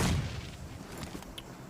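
A grenade blast followed by scattered gunfire in the battle-royale game PUBG Mobile during a competitive esports match, a loud boom giving way to a rapid, rattling series of shots.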